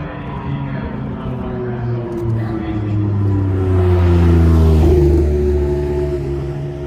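A BMW M4 GT4 race car sits on the Silverstone grid, its engine giving a loud, droning hum that swells and rises in pitch midway before settling, with voices faintly in the background.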